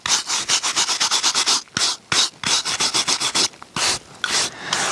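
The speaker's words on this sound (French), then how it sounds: "Allez, c'est parti, on va gratter un petit peu tout ça." A plaster cast of an animal track is scraped clean in rapid, rhythmic rasping strokes, bursts of gritty rubbing with short pauses between, close and loud with no voices.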